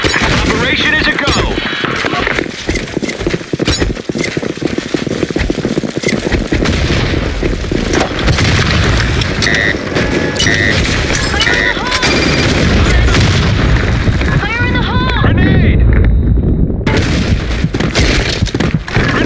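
Video game combat with dense, loud, continuous gunfire, automatic bursts and heavy booms of grenade explosions, a near and relentless barrage with voices faintly underneath.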